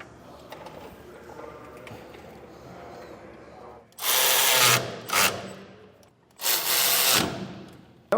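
A wrench tightens the brake nuts on a flat bed trailer's electric brake assembly. Two long loud bursts of ratcheting mechanical noise come up close after quieter handling sounds, with a short burst between them.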